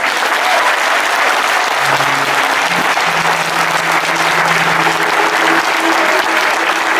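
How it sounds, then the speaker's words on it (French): A concert audience at a show applauds loudly and continuously, a dense roar of clapping from a large crowd that fills the whole stretch. "que tout le monde se lève et qu'on applaudisse pendant 15 secondes pour eux"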